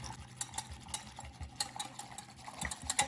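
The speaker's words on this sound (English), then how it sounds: "Sprinkle it on and whisk." Whisk stirring sweetener into a keto malai kulfi mixture in a bowl, a steady run of soft scraping clicks and light metallic taps close up, with no talking.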